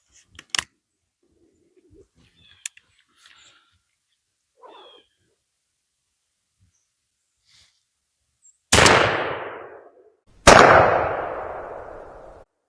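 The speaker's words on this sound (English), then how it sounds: "Let's shoot one of these Remington Express number 6s at it and see what kind of pattern we get out of this gun." Two loud Remington Express #6 shot shotgun blasts at a pattern target, each a sharp boom with a long decaying tail, a couple of seconds apart after quiet handling noises.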